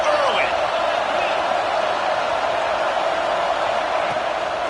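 A stadium crowd in an American football video game keeps up a dense, steady roar, loud and unbroken throughout the moment.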